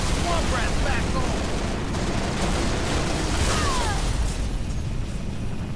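Loud, continuous barrage of gunfire and explosions from Halo: Reach, dense and unbroken throughout, with faint voices buried underneath.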